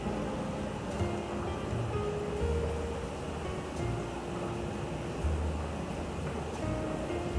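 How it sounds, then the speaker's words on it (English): Boiling pho broth pours steadily into a bowl, a continuous splashing, gushing stream heard up close with no one talking. "I'm going to pour the boiling broth into this bowl."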